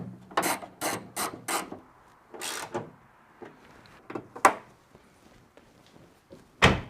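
Small metallic clicks and rubbing come from hand-tightening 8mm nuts and bolts on LED tag lights of a 2022+ Subaru WRX. Quick clustered ticks are followed by sparse, faint clicks and one louder final clack, close up in a quiet space.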